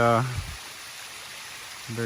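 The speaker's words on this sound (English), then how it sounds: "It's the little waterfall I was talking about." A small, shallow waterfall along the Natchez Trace gives a steady, soft rushing wash of water, with someone talking briefly at the start and again at the end.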